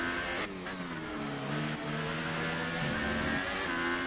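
Simulated McLaren Formula 1 car engine in F1 2018 during an online championship race, a steady loud high-pitched whine with rising and falling revs as the car runs through corners, continuous across the whole stretch.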